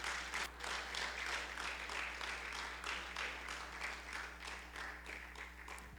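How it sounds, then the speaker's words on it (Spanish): A church congregation claps in welcome during a service, giving moderate applause with distinct claps that gradually thin out, over a steady low hum. "Un aplauso."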